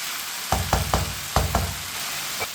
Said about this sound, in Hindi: अब इसे 2 मिनट के लिए चम्मच चलाते हुए पका लेंगे